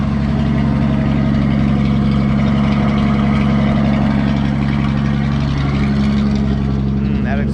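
An old farm truck engine idles loud and close, a steady low rumbling drone with an even rough beat that holds unchanged the whole time.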